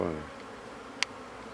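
Honey bees busy at a hive entrance while heavy pollen comes in make a faint, continuous buzzing hum, with one sharp brief click partway through.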